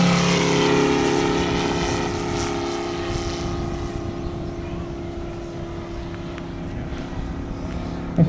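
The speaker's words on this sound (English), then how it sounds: "That's one big airplane." A Gee Bee R-3 propeller racing airplane drones steadily overhead, a loud continuous engine hum that eases slightly as it passes, with no talking.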